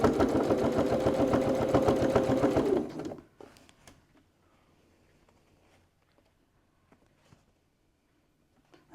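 A sewing machine runs steadily for about three seconds, stitching through the stacked layers of a cosmetic bag, then stops, leaving near silence with a few faint small clicks and handling sounds.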